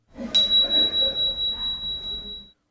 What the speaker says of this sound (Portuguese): O silêncio na sala, o leve soar do sino.